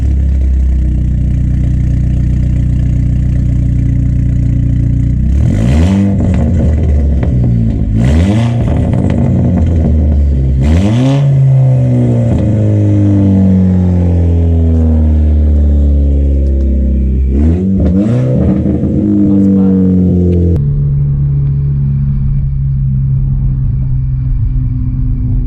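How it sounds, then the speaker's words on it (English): A Cupra car with a straight-piped exhaust revs loudly several times in sharp, rising bursts over a deep idle rumble. It then settles back to a steady, throaty idle, with no talking. "For now, I'm gonna reveal the exhaust."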